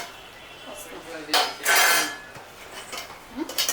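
A metal lid is set onto a pot of simmering mixed vegetable curry with potatoes, giving a couple of close clanks and a brief scraping rattle against a quiet kitchen background.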